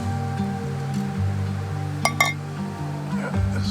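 A coffee cup handled outdoors on a trail, with two sharp clinks near the middle over a steady low hum and faint background noise.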